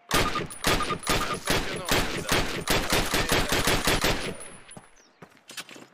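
Rapid automatic gunfire fired at a target in the 2004 PC game Call of Duty, a loud, evenly spaced string of about twenty shots that trails off into quiet, with a brief spoken word near the end.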